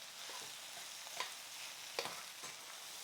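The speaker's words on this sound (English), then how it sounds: "So let's add these chestnuts and give that a lovely stir." Chestnuts and butternut squash sizzling in a frying pan while being stirred, a steady quiet hiss broken by a few scraping knocks of the utensil, heard close with no talking.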